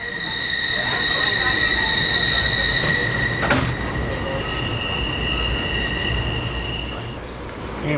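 Passenger train rolling loudly through a tunnel, steady roar of rails and wheels with sustained high squealing tones and a sharp burst midway, the sound opening up near the end as the train leaves the tunnel.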